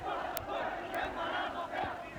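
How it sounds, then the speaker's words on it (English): A noisy crowd of communists and other supporters gives a reception in revolutionary-era Portugal, a dense, continuous roar of many voices with shouting and cheering, steady and loud throughout. "He returned to a noisy reception from communists and other supporters."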